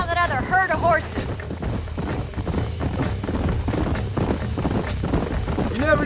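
Hooves of a herd of horses galloping in the Red Dead Redemption video game, a steady rapid clip-clop drumming with a horse's whinny near the start and end, heard under a low music and ambient bed.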